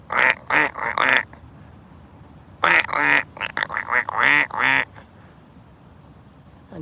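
Several ducks quack in loud, close bursts in a Japanese garden pond, one cluster of calls early on and a longer run of rapid quacks a moment later, then quiet outdoor ambience.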